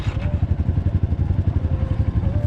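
Dirt bike engine running steadily nearby during a hill climb, a continuous low throbbing drone with a pulsing rhythm and no clear revs or shifts, alone with no talk.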